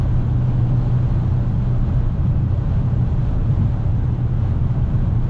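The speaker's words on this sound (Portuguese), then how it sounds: "Tá vendo como você já começa a ouvir o barulho de vento bastante?" Wind rushes steadily around a Fiat Cronos 1.3 Drive moving on asphalt, a loud, even low roar inside the cabin with faint road texture beneath and no talking.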